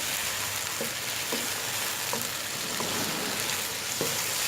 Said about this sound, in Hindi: चिकन को अपनी कुक कर लेंगे। हम इस तरह से भून लेंगे इसको।